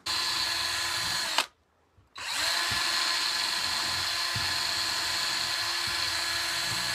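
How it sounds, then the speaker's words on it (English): Drill press boring through knife handle material, a loud steady high-pitched whine that cuts out briefly, then spins back up and runs continuously with faint rhythmic bumps of the bit working. "After I've drilled through all of the handle material here."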